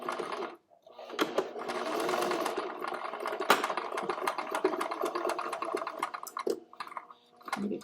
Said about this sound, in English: Okay, so we're back here at the sewing machine. It's time to sew this together.